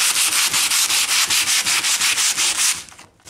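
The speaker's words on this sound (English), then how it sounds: "you get another piece of sandpaper, stick it to your hand, put it on." Two sheets of sandpaper rubbed hard against each other, one fixed to a table and one held by hand, grinding aluminum foil into powder; loud, close, rhythmic back-and-forth scratching strokes, about a dozen, stopping near the end.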